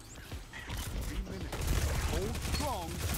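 Rapid video-game gunfire, a dense clattering burst that carries through most of the moment, mixed with game effects and a commentator talking over it.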